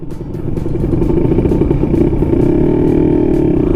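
Kawasaki KR150 two-stroke motorcycle riding on a road and overtaking on the right, its engine droning steadily and loud close by, rising slightly toward the end with wind and road rumble.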